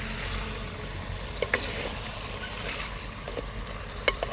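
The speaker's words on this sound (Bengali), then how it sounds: "আস্তে আস্তে জাল দিয়ে একটু কষাবো" Country red chicken sautés slowly over low heat in a handi pot, a soft steady sizzle with occasional sharp pops and scraping stirs, close and continuous.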